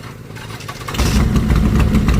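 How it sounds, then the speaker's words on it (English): A Honda 1000 RR motorcycle starts up after a quiet moment and settles into a loud, close, rumbling engine idle. "And my son starts his bike up."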